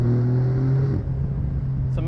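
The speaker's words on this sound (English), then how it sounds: "It's amazing how Porsche have been able to get an engine like this to sound so good in the modern days" A 2022 Porsche 911 Targa 4 GTS (992) with PDK gearbox revs its engine, a loud, steady mechanical drone that drops in pitch partway through as the revs change, with no talk over it.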